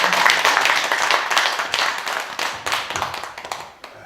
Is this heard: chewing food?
no